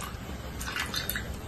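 Pani puri water dripping and trickling as the mint-tamarind mixture is strained and squeezed through a spoon in a home kitchen, soft, close and irregular, with no talk over it.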